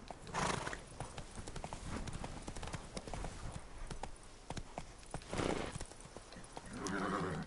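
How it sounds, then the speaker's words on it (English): A horse's hooves clip-clop at a steady gallop in The Witcher 3: Wild Hunt, with a whinny near the start and another near the end, heard clearly with a faint voice underneath. "Not so fast, Roach. Giddy up"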